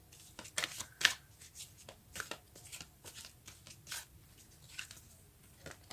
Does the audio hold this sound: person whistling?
no